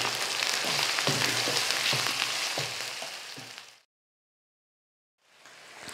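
Chicken pieces frying in a pan over a medium flame for Lahori murgh chanay, a loud, steady sizzle with a few stirring clatters that stops abruptly, leaving over a second of silence before the sizzle resumes.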